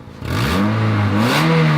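A racing Toyota Corolla engine revs up loudly and holds a high, raspy roar, with a ticking exhaust manifold leak layered into the drone.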